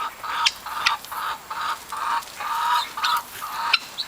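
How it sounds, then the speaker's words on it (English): Bantam partridge rock hens and rooster clucking in a steady run of short repeated calls, close by and fairly loud, with a faint outdoor background and no talking. "There's my bantam partridge rock rooster and his 2 remaining partridge rock hens"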